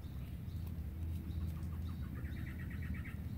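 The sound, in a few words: birds chirping outdoors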